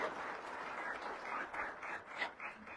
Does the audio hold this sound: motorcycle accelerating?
no